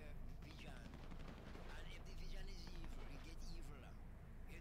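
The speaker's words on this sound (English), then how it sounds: "Fucking full-on machine guns going on over there." Distant machine gun fire rattles in GTA 5 in dense, overlapping bursts that carry on steadily throughout, under a busy game soundscape with voices and chatter in the background.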